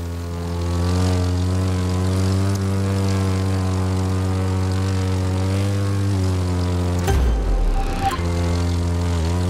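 Propeller airplane engine in the racing game The Crew 2 during knife-edge flight, a loud, steady droning hum that shifts pitch abruptly near the end.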